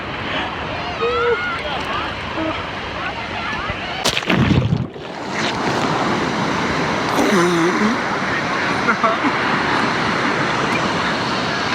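Loud, continuous roar of rough surf crashing and rushing on a Rio de Janeiro beach, with a brief gust-like burst midway; no voices.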